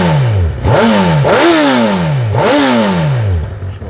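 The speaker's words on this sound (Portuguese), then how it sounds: "Vamos subir o giro, ó." The engine of a Honda CB 1000R Neo Sports Café motorcycle is revved three times in quick succession, each rise sharp and loud and followed by a falling roar before settling back toward idle.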